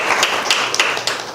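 Audience applause at a Korean author meeting, a brief burst of clapping from a seated crowd, steady and fairly loud with a few sharper individual claps standing out.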